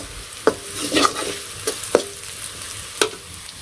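Vegetable bhaji sizzles gently in a pan while a spatula scrapes and stirs it in a few distinct strokes, close and moderately loud.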